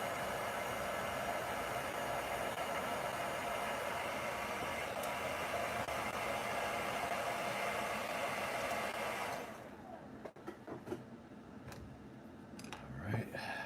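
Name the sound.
hair dryer drying paint on a sculpted portrait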